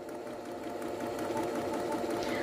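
An imported low-priced multi-purpose sewing machine stitches dark fabric with a steady, fast mechanical whir and rapid rhythmic clatter, close and continuous with no talking.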